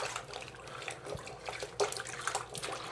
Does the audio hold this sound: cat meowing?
no